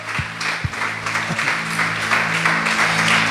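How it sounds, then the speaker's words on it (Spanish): A church congregation bursts into strong applause, with loud, dense clapping sustained throughout and a few thumps near the start. "Den un aplauso fuerte al Señor."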